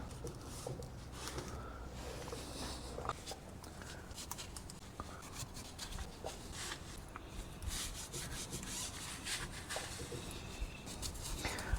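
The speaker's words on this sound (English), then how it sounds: "Well, I'll just wipe it off this rag." A rag wipes grease off a grimy vehicle frame part, making a steady, close rubbing and scuffing that runs continuously without speech.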